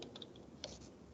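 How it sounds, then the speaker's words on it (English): Faint typing on a computer keyboard at a command prompt, a few soft scattered clicks and key taps, quiet and close with no talking. "here I am typing"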